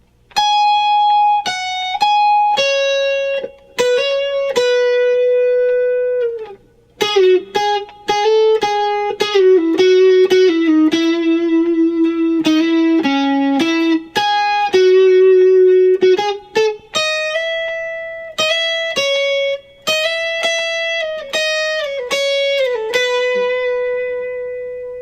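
Electric guitar plays a lead solo, a continuous run of sustained, effects-coloured single notes with slides and bends, close and loud with no talking.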